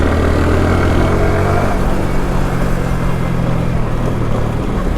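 A Yamaha R15 V3 motorcycle carrying a single rider winds along a hilly, twisting road, its engine a steady loud drone mixed with constant wind rush, with no pauses.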